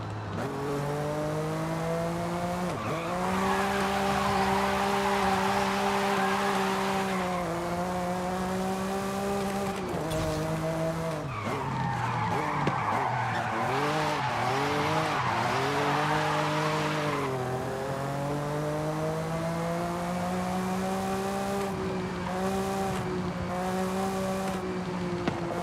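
A car in the Forza Horizon 5 video game drives with a droning, shifting engine note, sliding into long tire squeals and rising revs through repeated turns, continuous and close.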